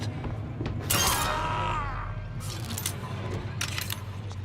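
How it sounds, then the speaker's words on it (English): Glass shattering in the video game BioShock Infinite: Burial at Sea, a sharp bright crash followed by tinkling shards, then further scattered breaking bursts over a low ambient hum, no talking. "Did not see the glass until it's too late."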